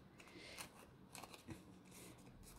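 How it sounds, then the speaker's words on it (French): Scissors snip through a cardboard toilet paper roll toward its center in short, faint, close cuts with small crunchy crackles between them, recorded quietly. "on va venir découper, vous voyez, en allant vers le centre"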